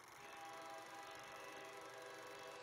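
A steady, droning rumble of a train with a sustained horn-like tone running throughout, faint and continuous with no voices.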